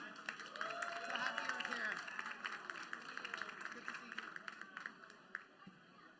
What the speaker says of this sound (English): Huge round of applause for Nina.